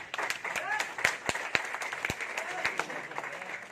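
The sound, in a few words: audience applause at business meeting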